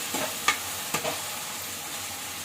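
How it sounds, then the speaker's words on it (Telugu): Chopped onions fry in oil in a pan on the stove, a soft steady sizzle broken by a few stirring scrapes and taps of a spoon. "తగిన ఉల్లిపాయలు అయితే వేసానండి పొయ్యి మీద వేస్తున్నాయి"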